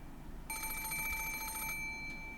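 An antique extension phone on a table in a grandfather's study, in the visual novel Umineko, gives one sustained metallic bell ring of just over a second, loud and near, then fades into a quiet room.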